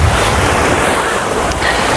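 Steady roar of sea surf and gusting wind buffeting the microphone at the seaside, loud and continuous throughout.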